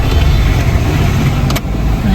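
An auto-rickshaw engine drones loud and close as it passes, a steady motor rumble with a short dip near the end and no voices over it.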